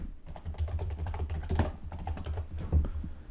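Fingers type quickly on a computer keyboard, a close, busy patter of light plastic clicks with a few louder keystrokes standing out, and no talking.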